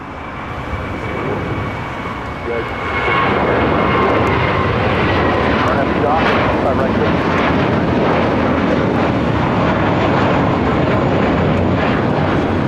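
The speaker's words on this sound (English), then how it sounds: "Next takeoff is JetBlue Airways flight 1124 heading to JFK." A JetBlue Airbus A321 jet takes off at LAX, a loud broad roar of engines that swells after a few seconds and holds strong and steady to the end, with no voices.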